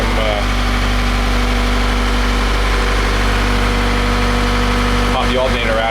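Case 588 rough-terrain forklift engine running steadily and loud while the machine is driven toward a garage, a constant low diesel drone with a brief rattle near the end.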